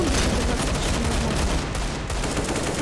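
Rapid bursts of gunfire in Garry's Mod crackle densely and loudly throughout, a sustained volley with no talking.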